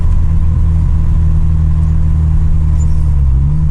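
Opel Kadett engine droning steadily while the car drives, a continuous low rumble with a faint mid-range hum running throughout, close and fairly loud.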